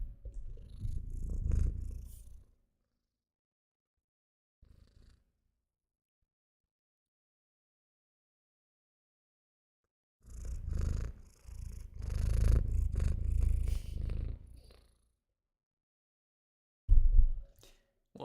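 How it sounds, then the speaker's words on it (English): A cat purring close up, soft rumbling bursts in several stretches separated by long silent gaps, with no talking. "Some cat ASMR."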